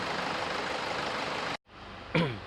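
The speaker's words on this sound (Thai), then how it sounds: "ตอนนี้เครื่องยนต์ยังสตาร์ทอยู่นะครับ" A steady car engine idles with an even, rumbling drone, then cuts out abruptly; a brief creaking squeak follows.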